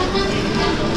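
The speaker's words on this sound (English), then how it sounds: "It is snowing rain right now." Wet sleety snow-rain falling outdoors in Munich, a dense, steady hiss of drops on surfaces filling the air without pause.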